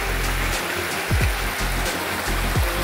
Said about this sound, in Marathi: आणि आता मी पर्याचं पाणी दाखवतो. इथे जोरदार वाहतंय.